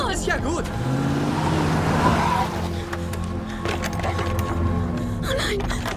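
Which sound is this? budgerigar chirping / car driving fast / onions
car driving fast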